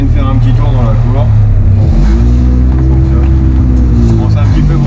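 Honda Civic EP1 track car idling and revving loudly without its rear silencer, a harsh, rumbling exhaust drone that rises and falls close by, with someone talking over it.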